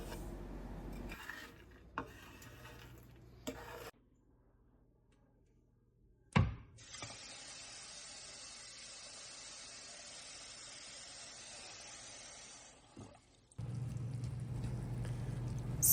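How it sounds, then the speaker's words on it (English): Frozen and fresh peppers sautéing in butter in a pan give a steady close sizzle and hiss lasting several seconds, with a few sharp knocks of utensils on the pan before it. "just give them a quick little saute in some butter with the fresh ones that I've cut up."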